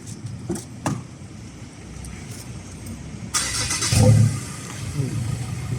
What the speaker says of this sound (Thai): เดี๋ยวเรามาฟังเสียงการสตาร์ทกัน เดี๋ยวผมจะสตาร์ทให้นะครับ